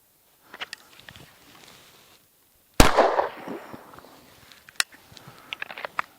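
Pistol fired at a target using a Leupold DeltaPoint Pro red dot sight: one loud, sharp shot with a ringing tail stands out, followed by smaller clicks and handling taps, with no talk.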